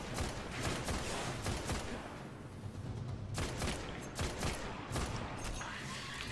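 Rapid bursts of automatic gunfire in the Destiny video game, a dense loud barrage of repeated shots that keeps going almost without a break, with a few sharper single cracks standing out near the middle.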